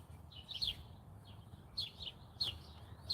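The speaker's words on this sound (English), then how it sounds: "And hopefully you can hear the birds." Small birds chirp in short, high tweets, a few scattered calls over quiet outdoor ambience.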